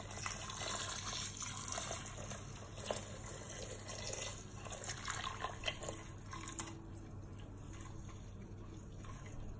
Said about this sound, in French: je vais venir mettre la sauce. Je vais venir la mettre à 1 cm du riz